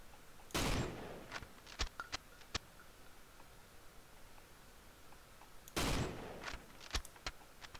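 Gunfire in the horror game Cry of Fear: two sharp, loud shots several seconds apart, each followed by scattered clicks and metallic ticks in a quiet room.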